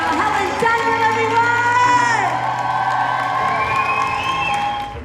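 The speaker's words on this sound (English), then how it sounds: "Give her a round of applause" An audience at a live event cheers, whoops and shouts loudly and continuously for several seconds, with applause blended into the sustained crowd roar.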